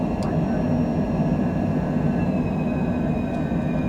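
Jet engines of a Cessna jet roar steadily during the climb just after takeoff from Philadelphia, a constant broadband cockpit drone with faint tonal whines and brief clicks, no talk heard.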